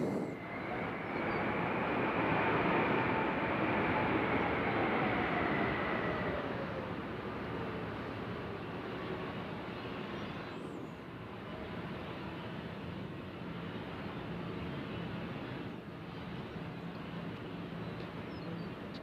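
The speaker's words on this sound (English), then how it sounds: "look at this beautiful JetBlue just flew in" A JetBlue airliner landing at Nashville passes with a faint engine whine and rumble, strongest early then fading into low, distant background noise.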